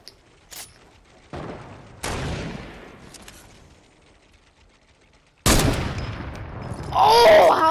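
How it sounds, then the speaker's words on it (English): Sniper gunfire in Fortnite, with several sharp separate cracks spaced a second or more apart, each fading into a short echo, followed by a louder close blast and chaotic noise at the end. "We're getting sniped from the side"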